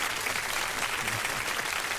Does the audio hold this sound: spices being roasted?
no